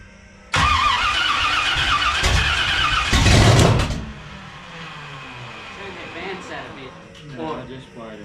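A car engine fitted with a Comp Cams Mutha Thumpa camshaft cranks and fires loudly, runs rough for a few seconds with a brief rev, then settles to a lumpy idle while people talk over it.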